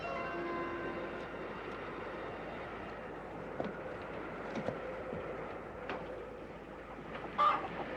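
Chickens cluck and chatter softly in the distance over a low, steady background murmur, with a few sharper calls standing out.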